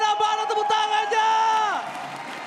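Esports arena crowd at a Mobile Legends MPL Indonesia Season 11 match between RRQ and EVOS, loud whoops and cheering voices swelling together, then dropping off toward the end.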